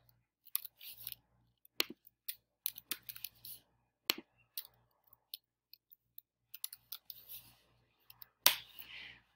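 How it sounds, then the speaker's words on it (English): Sparse, crisp clicks and taps from a computer mouse and keyboard while entering data in a spreadsheet, scattered single clicks and short clusters over near silence, closer and louder near the end. "I'm going to click into the next cell."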